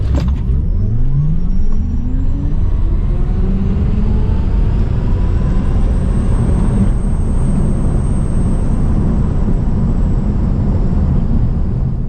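A Tesla Model S Plaid launches in drag strip mode at a drag strip, its electric drivetrain whine sweeping steadily upward in pitch over loud, continuous road and wind roar.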